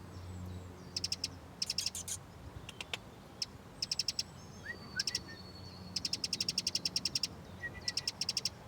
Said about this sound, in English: I wonder what bird you are.